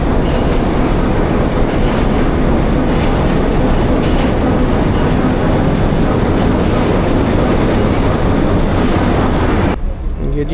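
A passenger train rake rolls through a railway yard toward the washing line, a loud, steady rumble with rhythmic wheel clatter that runs continuously before dropping away abruptly near the end.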